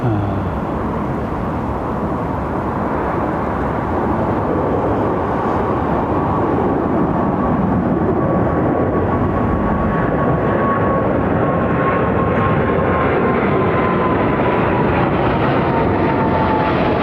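An airliner with old GE jet engines roars loud and close at Heathrow, a steady dense engine noise held throughout with a faint whining tone sliding across it.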